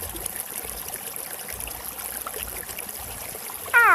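A river stream flows by a riverbank in a steady, soft rushing wash of water, with a brief high chirp at the very end.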